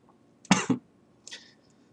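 Two sharp coughs in quick succession, fairly close, followed by a softer, shorter throat sound after a brief pause.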